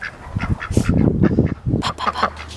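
Garden ducks give a close, rapid burst of honking quacks, several overlapping calls in quick succession over a couple of seconds.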